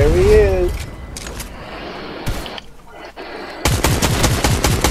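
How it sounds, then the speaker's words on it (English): Video game gunfire in a live-streamed shooter, several bursts of rapid automatic shots with a dense machine-gun rattle near the end, loud and close, mixed with other game sounds. "I'm shooting again."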